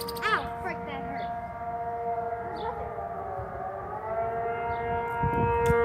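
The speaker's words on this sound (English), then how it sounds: "I think this is the purge siren." A tornado siren wails continuously, a sustained rising and falling civil defense tone that fills the whole stretch; short chirpy voice sounds break in near the start and end.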